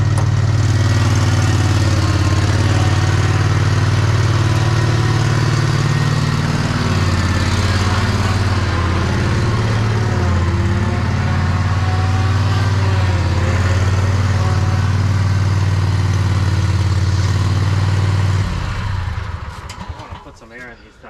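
A Red Max mower engine runs steadily and loudly up close, a constant droning rumble that holds for most of the time before cutting off near the end, with a voice talking over it.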